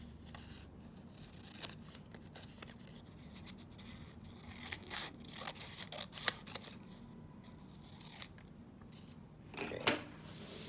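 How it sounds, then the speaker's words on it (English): Scissors snip a small piece of note card, making quiet, close, irregular crisp cuts and rustles against a faint background, with a louder snip near the end. "So I can cut this really small."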